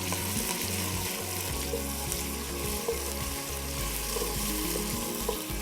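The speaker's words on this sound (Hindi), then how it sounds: "ये जो कड़कड़ाहट है ना मसालों की, ये फ्लेवर देती है।" Whole spices crackle and sizzle steadily in hot oil in a pan, a dense continuous frying hiss with close popping and faint stirring, no voices.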